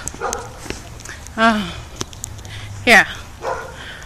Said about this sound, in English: Ooh, I hear the dogs.